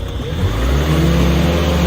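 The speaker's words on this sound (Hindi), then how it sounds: "क्या दोस्तों ये गाड़ी निकल पाएगी?" A stuck car revs steadily as it is pulled free, a loud, sustained mid-pitched engine drone with a slight rise, close by and with no talking over it.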